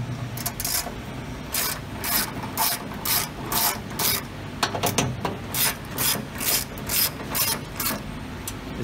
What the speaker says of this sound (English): we're going to take our front and rear bolts out.